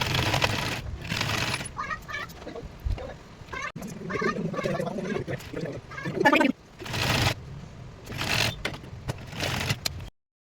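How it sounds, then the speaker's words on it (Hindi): A sewing machine stitches along the folded edge of net fabric for a doll dress base, running in close, buzzing bursts with brief pauses and clicks between runs. "तो चलिए मैं इस पर किनारे पे सिलाई लगा लेती हूँ,"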